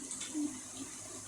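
Water running from a faucet in a video game, a steady hiss with a brief louder surge, faint and continuous throughout.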